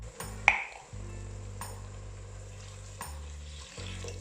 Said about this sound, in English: Stock going in.